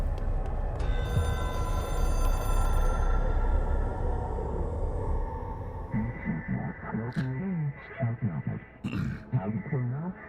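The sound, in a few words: telephone ringing in the video game Control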